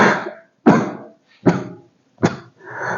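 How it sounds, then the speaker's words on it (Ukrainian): A person coughs four times in short, separated bursts, close and clear, with brief silences between. "отакі покашлювання"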